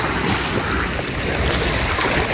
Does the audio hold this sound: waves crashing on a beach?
yes